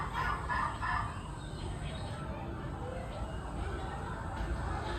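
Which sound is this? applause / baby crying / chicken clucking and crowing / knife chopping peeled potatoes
chicken clucking and crowing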